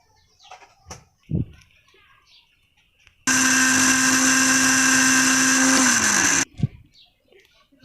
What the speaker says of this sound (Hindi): अब हम इनको मशीन में पीस लेंगे